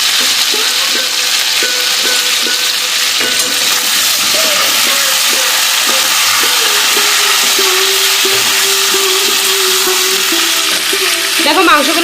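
Chicken pieces seasoned with turmeric and salt fry in a pan with a loud, steady, close sizzle, while a utensil knocks and scrapes against the pan in a regular rhythm.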